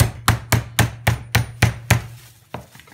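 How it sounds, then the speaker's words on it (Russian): Pork loin steak pounded with a meat mallet to tenderize it: about nine sharp, evenly spaced thuds in quick rhythm, close and loud, then a pause and one more strike. "Начинаем отбивать."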